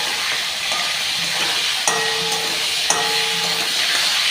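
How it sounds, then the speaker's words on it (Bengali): Cauliflower frying in hot oil in a home kitchen while cooking a rohu fish curry, giving a steady soft sizzling hiss with two brief sharper clinks or pops, no talk. "ওই তেলে ফুলকপিটা এখন ভেজে নেব।"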